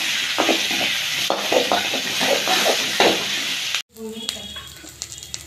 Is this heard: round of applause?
no